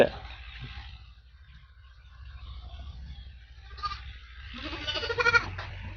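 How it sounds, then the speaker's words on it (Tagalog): Goats bleat a few times on a farm, moderately close, with a wavering nasal cry near the end over quiet background rustle. "dahil wala pa si Mang Ronnie, palalabasin muna yung mga kambing"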